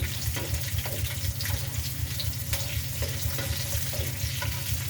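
Chana dal and small onions frying in a pan, a steady close sizzle with occasional light scrapes and clinks of stirring.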